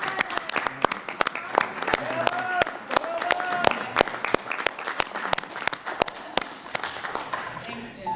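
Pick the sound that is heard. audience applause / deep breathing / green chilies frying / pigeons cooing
audience applause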